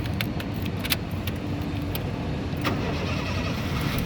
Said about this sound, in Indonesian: nah berikutnya sekarang kita coba nyalakan mobil ya